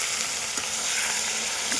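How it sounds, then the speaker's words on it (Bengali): Onions and green chillies fry in hot oil with cumin, bay leaf and dried red chillies in a kadai, a dense, even, close sizzle that holds steady and unbroken, with no talking. "একটু লাল লাল করে ভেজে নেব"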